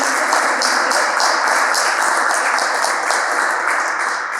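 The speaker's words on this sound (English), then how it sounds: "let's give a round of applause for our TMOD Toastmaster Norman Nicholas." A room of Toastmasters club members applauds the meeting's Toastmaster, Norman Nicholas, with steady, fairly loud clapping that holds evenly for several seconds and eases off at the very end.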